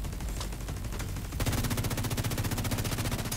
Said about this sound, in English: this thing shoots like a submachine gun